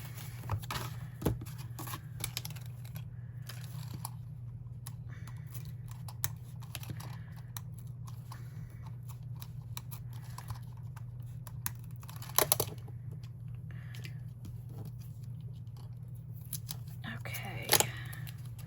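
Scissors cutting scrapbook paper in a quiet room, a few soft snips and paper rustles over a low steady hum, with a louder cut near the middle and another near the end.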